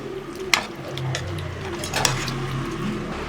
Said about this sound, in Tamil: இப்போ நம்ம நல்லா கிண்டி விட்டுக்கலாம்